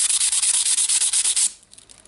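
Sanding rust off the metal housing of a Makita BHR240 18V hammer drill, a steady close abrasive rasp pulsing in quick strokes for about a second and a half, then stopping abruptly.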